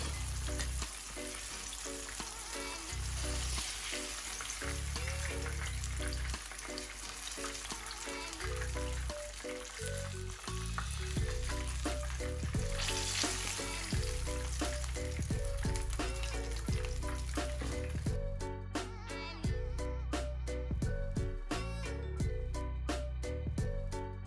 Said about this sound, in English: And we're allowing these to fry for about 5 minutes on each side